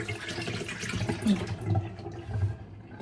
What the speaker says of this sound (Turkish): Birazcık suyunu süzeyim.